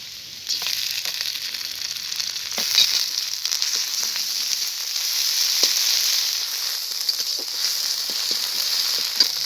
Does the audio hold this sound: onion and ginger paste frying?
yes